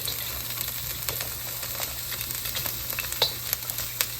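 Onion stir-fried in a wok with scallion oil gives a steady low sizzle, with scattered light scrapes and clicks of the spatula throughout.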